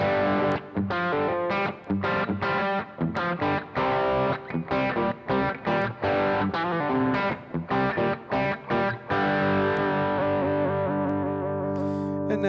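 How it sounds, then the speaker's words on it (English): Westone Pantera X390 electric guitar played through the bridge pickup with a tube screamer overdrive, mild rather than heavy distortion; loud, up-close strummed chords and riffs with sharp stops, ending on a long ringing chord that fades. "bridge pickup with a bit of overdrive, so tube screamer overdrive rather than sort of like the distortion"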